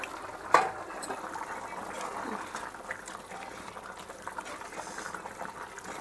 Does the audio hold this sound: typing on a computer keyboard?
no